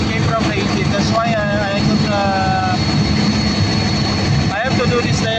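A Caterpillar C15 generator engine (500 kVA, 400 kW) runs with an annoying noise: a loud, steady, dense drone with whining tones rising and falling over it, unbroken for the whole stretch.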